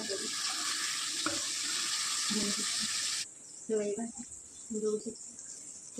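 Water pours steadily for a few seconds into a simmering capsicum vegetable curry in a home kitchen, then stops, leaving faint clinks and soft background sounds.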